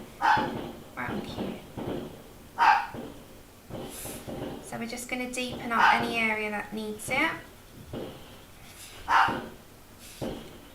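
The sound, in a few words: dog barking at fireworks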